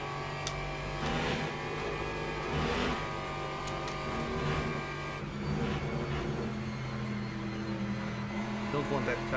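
A race car engine in the Le Mans Ultimate sim at Spa revs up and down in repeated throttle blips, loud and steady, while someone talks over it.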